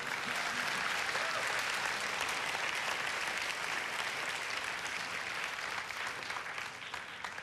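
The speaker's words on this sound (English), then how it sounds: "Let's give them a big round of applause." Pageant audience at a Strassenfest street festival applauds steadily, a dense, sustained wash of clapping from many hands that carries on evenly and eases only slightly toward the end.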